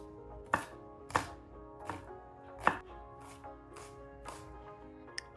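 A knife mincing shallots on a cutting board, about eight crisp chops at an irregular, unhurried pace, close and clear with no talking.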